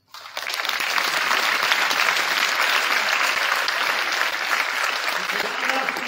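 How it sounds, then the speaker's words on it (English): Graduating seniors at a senior night burst into applause after a brief pause, a loud, dense and continuous clapping from a large group lasting several seconds. "give yourselves a round of applause"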